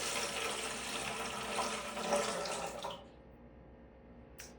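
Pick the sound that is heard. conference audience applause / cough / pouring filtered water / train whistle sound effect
pouring filtered water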